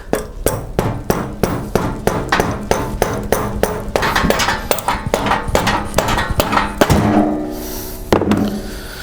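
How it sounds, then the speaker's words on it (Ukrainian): Steady metal hammer blows drive a bolt to free a 4 kW generator rotor from its cone, with sharp, evenly spaced, ringing strikes close by, followed by a clanging release near the end. "Ставимо болт і забиваємо."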